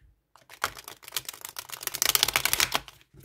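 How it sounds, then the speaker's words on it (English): A quick riffle of stiff tarot cards, a rapid flurry of crisp papery clicks and flutters that rises and falls over a few seconds, close by. "Shuffles very nicely."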